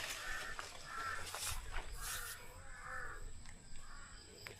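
Crows raiding ripe papayas give repeated cawing calls, faint and somewhat distant, about five calls in a steady rhythm over outdoor background noise.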